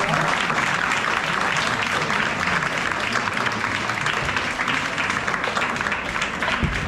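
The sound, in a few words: audience applause for music performers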